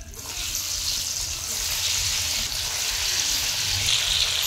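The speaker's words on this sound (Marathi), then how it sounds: "आता मस्त तेल तापलं, आहे ना? आता वड्या टाकून घेऊ त्यात." Coriander vadi dropped into hot oil and frying, a loud, dense, continuous hiss of bubbling oil close up, with low thumps underneath and no speech.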